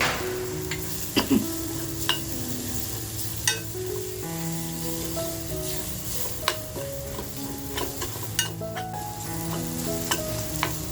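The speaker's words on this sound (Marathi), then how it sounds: "बघा आपला कांदा असा खमंग परततोय" Chopped onion with a little coriander sizzles steadily in a pan while being stirred, with sharp scrapes and clicks of the spoon breaking through the continuous frying hiss; no voices.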